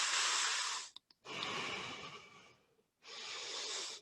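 Slow, deep breaths during a yoga session, standing in Samasthiti: a long exhale, a brief pause, then another long breath, close and steady with no talking.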